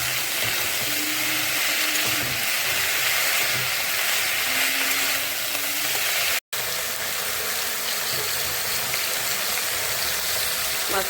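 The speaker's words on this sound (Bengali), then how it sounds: "শাকটা ভালো করে ভেজে নেব।" Pumpkin greens fry in a pan for a hot curry, a steady loud sizzle and hiss with occasional stirring, broken by one brief silent gap.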